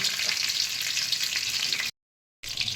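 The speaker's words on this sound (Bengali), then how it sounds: "তেলের মধ্যে আমি একটু সাদা জিরে ফোড়ন দিচ্ছি" Cumin seeds and whole garam masala (cardamom, cloves, cinnamon) sizzle and crackle in hot oil, a steady bright hiss close up, broken by a brief gap of silence before the frying resumes.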